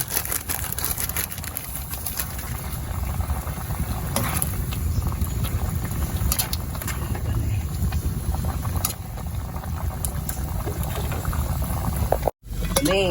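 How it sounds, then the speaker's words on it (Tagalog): Pork sinigang broth boils in a pot, a constant bubbling and rolling simmer heard close and fairly loud, with a brief cutout near the end. "nagkulo na po ang ating pork"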